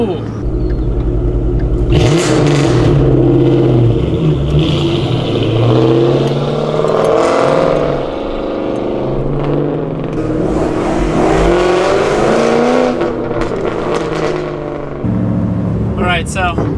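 A Ford Mustang GT engine revs and roars up through the gears, a deep rumbling exhaust with repeated surges, with people talking over it.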